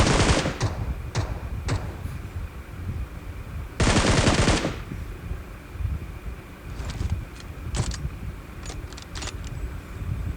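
Gunfire in PUBG Mobile: several short automatic bursts and single shots crack out at irregular intervals over a low background, with one long, loud sustained burst in the middle.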